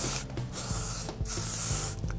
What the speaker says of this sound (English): Now you want to spray it all around.